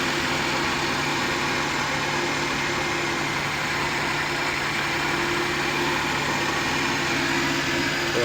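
Engine freshly rebuilt after a general overhaul, running steadily at idle with a constant loud droning hum and vibration throughout, no talk over it.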